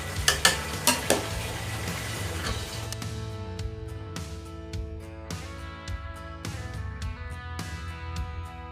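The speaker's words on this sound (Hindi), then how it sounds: "बिरयानी हमारी तैयार हो चुकी है। इसको ना अच्छी तरह से इसको मिक्स कर दें।" Chicken biryani being mixed in a metal pot, with repeated scraping and clanking strokes of a spoon against the pot, loud and close, the first few strokes heavier, then a steady run of lighter knocks.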